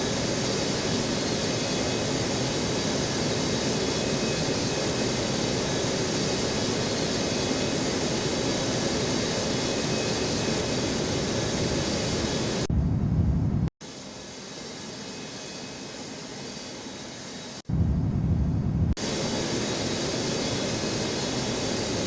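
A jet airliner roars steadily on a Newark airport runway, a loud broadband rumble that holds for about thirteen seconds, then drops sharply to quiet gaps broken by a brief burst of engine noise.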